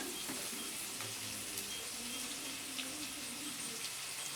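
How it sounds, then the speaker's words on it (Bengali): Potatoes frying in a pan, a steady, even hiss of oil that carries on without pause, soft and close. "আলু ভাজা হতে থাক"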